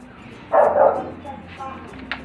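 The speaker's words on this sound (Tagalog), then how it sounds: "Ingay ng aso" A dog barks in a short loud burst near the start, followed by quieter yelps while a person talks over the background.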